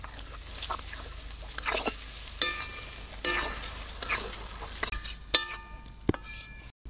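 Small shrimp and onions fry together in a pan: a steady sizzle broken by scraping stirs and sharp clinks of the spatula against the metal, close up with no talking.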